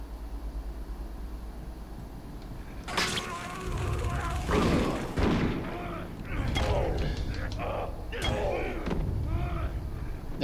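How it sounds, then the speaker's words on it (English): Gunshots and loud impacts in the Condemned video game, arriving abruptly after a quiet stretch and continuing in irregular bursts while someone talks over them. "Where's the guy who's shooting me?"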